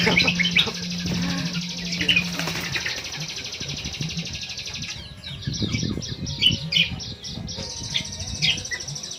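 Pigeons feeding on the ground while nesting with young, with close, loud chirps, coos and wing flutters from several birds, continuous and busy throughout.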